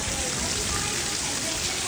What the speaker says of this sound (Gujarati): શરૂઆત થઈ ગઈ છે વરસાદની